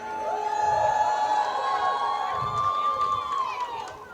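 Holi festival audience cheering and making noise, a sustained wash of crowd shouts and high whoops that swells and holds for several seconds before easing slightly.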